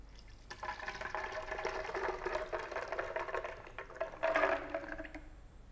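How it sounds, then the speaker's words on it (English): Water and almonds are poured into a blender: a steady pour of liquid with a light rattling patter runs for several seconds, close and fairly quiet, tailing off at the end. "we are just going to pour our almond and water into the blender"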